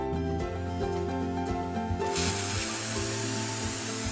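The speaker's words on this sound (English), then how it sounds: "Then heat it with the gas burner." In a cartoon about a petrol tank repair, a gas burner roars with a loud steady hiss as it heats metal for welding, rising to a fuller blast midway over a continuous tonal background score.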